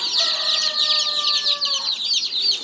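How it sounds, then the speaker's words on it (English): Barred Rock pullet chicks peep continuously in shrill, overlapping chirps at close range, with no talking. "Barred rock pullets."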